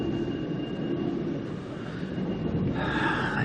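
The Spirit of the Outback passenger train rolls along after leaving Blackwater, giving a steady, continuous rumble of wheels and carriage noise heard from on board, with a thin high whine above it and a brighter shift near the end.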